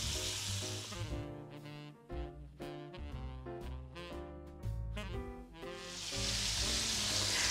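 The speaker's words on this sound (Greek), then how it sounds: "περιμένουμε άλλα 3-4 λεπτά για να τηγανιστεί από την άλλη μεριά" Chicken pieces frying in oil in a pan, a loud, steady sizzle with crackling spits and bursts that swell toward the end, close and continuous with no talking.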